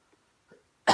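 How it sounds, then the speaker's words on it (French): A single sharp cough bursts out close and loud at the very end, after near silence broken only by a couple of faint throat sounds. "J'ai un peu la toux."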